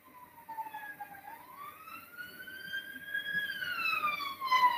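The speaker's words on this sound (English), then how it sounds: "Can you hear the siren" A siren wails with rising and falling pitch sweeps, growing louder as it approaches, over a low rumble of background noise.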